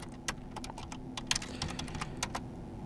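Rapid keyboard typing, a run of crisp clicks at an uneven pace over a low steady hum, close up.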